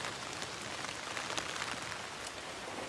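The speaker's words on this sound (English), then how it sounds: "Hail." Hail pouring down in a storm, a dense rattling patter of ice on surfaces with scattered sharper hits, steady and close with no talking.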